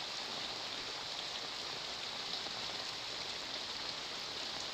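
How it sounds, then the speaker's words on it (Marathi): Heavy monsoon rain in Nandurbar falls as a steady, even hiss of drops on surfaces, fairly faint and constant with no voices. "नंदुरबारमध्ये मुसळधार पाऊस आहे"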